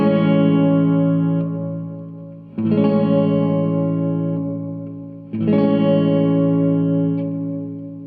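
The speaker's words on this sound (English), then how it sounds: "The hall reverb, self-explanatory again, it's meant to be a huge hall or like an arena." A guitar run through the hall setting of a TC Electronic Hall of Fame 2 reverb pedal, meant to evoke a huge hall or arena: three sustained chords struck about every three seconds, each ringing out in a long, spacious wash that decays slowly without talk.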